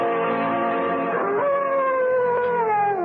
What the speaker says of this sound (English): What the devil is the matter with that dog, Chadsworth?